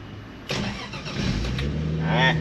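A Toyota Crown MS55 engine cranks briefly and catches on the first try, settling into a close, steady running rumble that builds slightly toward the end.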